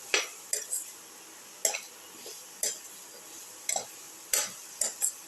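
Cauliflower and potato with ginger are sautéed in a pan, a spoon scraping and clinking against the metal in irregular sharp strokes over a faint, quiet sizzle.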